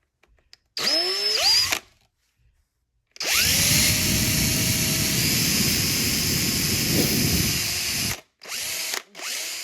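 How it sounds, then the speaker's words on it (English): A small power drill with a 5/64 bit drills a hole in a car wiper motor linkage, whining up in a brief burst, then running loudly for about five seconds, followed by a few short trigger pulses. "using a 5/64 drill bit"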